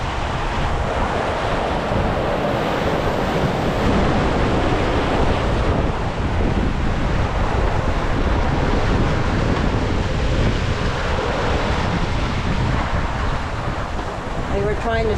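Ocean surf and breaking waves at Fort Pierce Inlet near a break wall, a steady loud wash with wind buffeting the microphone throughout, heard from a small boat.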